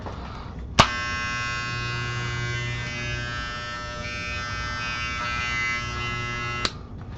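A Wahl Senior Reflections 8501 hair clipper switches on with a sharp click, buzzes at a steady, loud, bright pitch for about six seconds, then clicks off.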